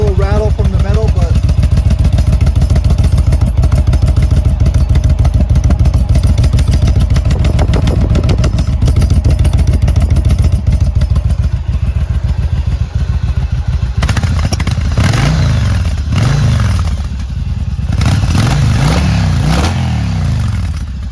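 A loud, deep exhaust on a 2009 Yamaha V-Star 1100 motorcycle with the baffle removed rumbles close by, idling with a throaty chop and blipping into several revs, with some metallic rattle.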